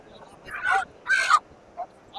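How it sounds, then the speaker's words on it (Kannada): Country chickens at a crowded village livestock market give several short squawking calls in quick bursts, fairly close over a faint background murmur. "ನೋಡಿ ಗುರು, ಕೋಳಿಗಳು"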